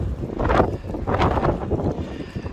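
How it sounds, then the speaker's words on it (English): Strong outdoor gusts batter the microphone in rolling, rumbling bursts with no other clear sound. "it's just so windy"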